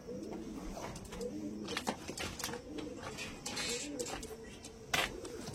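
An Andhra pigeon coos repeatedly inside a box, soft throaty calls rising and falling close by, with scattered rustles and clicks between them.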